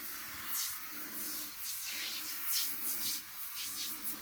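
Repeated hissing sprays from a can of Kaboom Foam Tastic cleaner, about one per second, close and fairly soft, with brief pauses between bursts.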